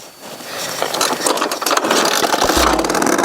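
A police vehicle's engine running close by, a rough mid-pitched rumble with rattles that builds and grows louder toward the end.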